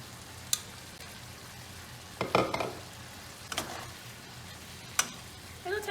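Ground beef with chunks of Velveeta cheese cooks in a pan with a soft, steady sizzle, broken by a few sharp clicks and brief scraping stirs.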